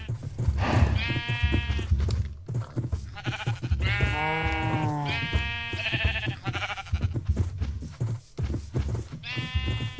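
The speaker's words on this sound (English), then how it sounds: "Six sheep." Several sheep in a farming survival video game bleating repeatedly, overlapping wavering baas one after another over a low steady background hum, loud and close.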